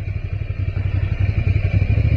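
Motorcycle riding at night through fog, its engine giving a steady low rumble with rhythmic pulsing throughout, close and fairly loud, with no talk over it.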